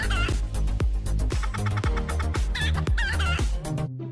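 Chickens clucking in a busy, rapid series of sharp calls, close and loud, with a few drawn-out squawks mixed in.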